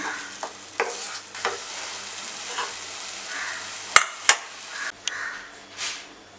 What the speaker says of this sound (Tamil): இதை வந்து கொஞ்சம் வதக்கி விட்டுருங்க